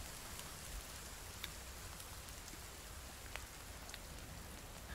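Steady rain in the video game The Forest hisses continuously, a dense wash of drops with a few faint clicks, no voices, even and moderately loud throughout.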